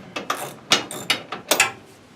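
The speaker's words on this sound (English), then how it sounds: "to remove the wheel handset, you've got to undo these bolts on the sides" A ratchet clicks in quick irregular strokes while undoing the side bolts of a wheel handset, close and crisp, about a dozen ticks over two seconds, no talk.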